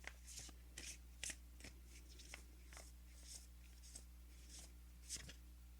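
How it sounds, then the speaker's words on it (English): Tarot cards shuffled and one drawn from the deck, soft papery riffles and slaps in short bursts against a steady low hum, close and quiet, with no talking. "I'm going to pull one more card for Aries."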